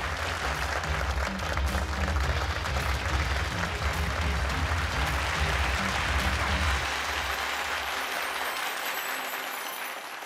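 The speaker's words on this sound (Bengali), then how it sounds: "জোরে হাততালির মাধ্যমে স্বাগত জানাই" A studio audience on a televised business-pitch stage show claps loudly and continuously in dense, even applause that tapers slightly toward the end, with a low musical bed underneath.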